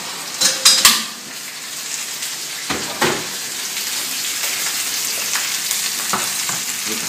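A sauce reduces in a pan beside a roast, bubbling and sizzling steadily. A few metallic clinks and scrapes of a utensil sound early on, then a soft, continuous simmer.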